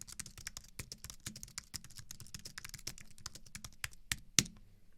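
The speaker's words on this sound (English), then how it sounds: "This is the stock Mac keyboard that we're all used to using." Quiet, rapid typing on a stock Apple Mac keyboard, with a fast irregular patter of soft key taps that ends in one sharper tap before a short pause.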